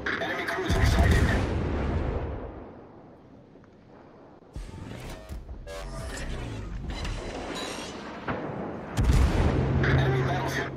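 Booming naval gunfire and crashing shell impacts from warships in the World of Warships game, heavy salvos swelling and fading across the scene, with a voice talking over parts of it.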